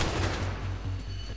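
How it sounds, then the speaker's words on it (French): Gunfire in Battlefield 3, a short spell of muffled, somewhat distant shots over a low rumbling background, with no voices. "Qui c'est qui me tire dessus? C'est le civil."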